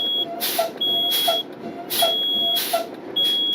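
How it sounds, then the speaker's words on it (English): Truck low air pressure alarm beeping as the brakes are bled down: a loud, close, repeating electronic beep in evenly spaced pulses, about four in a few seconds, with no talk. "You want your low air alarm to come on about 60 psi."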